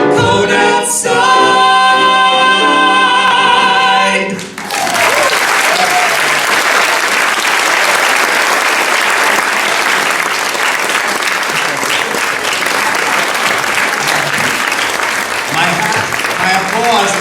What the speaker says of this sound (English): My applause, loud applause.